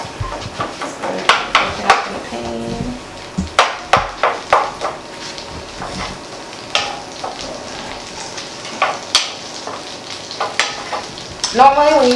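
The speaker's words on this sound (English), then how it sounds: "so I'm not going to add salt to my pepper and onions when they're sauteing" Onions and peppers sauté in a pan with a steady low sizzle, broken by repeated sharp clinks and scrapes of a utensil stirring against the pan, with almost no talk.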